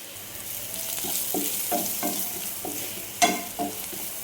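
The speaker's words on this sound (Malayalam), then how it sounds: "ചെറിയ ഉള്ളിയും വെളുത്തുള്ളിയും കറിവേപ്പിലയും നന്നായി ഒന്ന് വഴണ്ട് വരട്ടെ" Shallots, garlic and curry leaves sauté in a pan with a steady sizzle, broken by spoon scrapes and stirring knocks, including a sharper clatter near the end.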